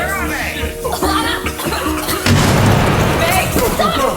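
A grenade blast in a film scene hits as a sudden loud boom partway through, followed by rumbling debris, with tense voices talking before and around it.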